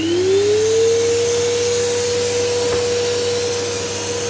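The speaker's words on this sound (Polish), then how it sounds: "uruchamiam odkurzacz" A vacuum cleaner, run from a balcony for an air-quality experiment, drones steadily and loudly throughout, its pitch rising as the motor spins up at the start and then holding constant with a broad hiss.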